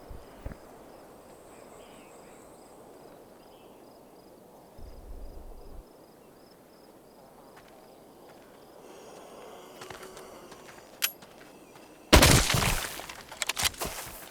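Gunfire in the VR video game Arizona Sunshine. A mostly quiet stretch with scattered faint clicks gives way to a sudden loud burst of shots near the end, followed by a few sharper cracks.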